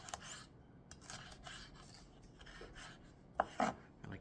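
A kitchen knife cuts food on a cutting board while making chicken fajita tacos: a handful of faint, quiet strokes that land near the end after a soft stretch of low background noise.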